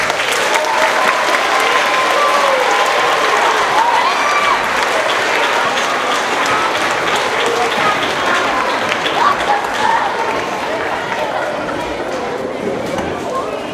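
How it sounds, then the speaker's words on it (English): Audience applause filling a school year-end awards ceremony at a middle school, a dense, steady wash of clapping that holds for the whole stretch with faint crowd murmur beneath, easing slightly toward the end. "so now would we please give them a round of applause."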